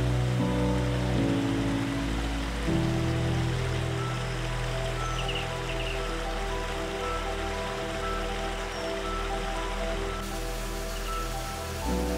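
Waterfalls in a Scottish woodland gorge beneath tall Douglas firs give a steady, dense rushing hiss of falling water, constant and close, with a low tonal hum underneath and no voices.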